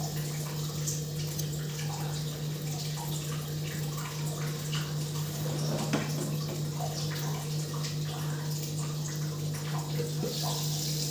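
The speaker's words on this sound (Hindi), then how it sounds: "अभी भी भाप है, पानी बुलबुले उठ रहे हैं।" Water bubbles and simmers in a steaming pan of stuffed okra on the stove, giving a steady close hiss and gurgle with a constant low hum throughout and small crackles scattered over it.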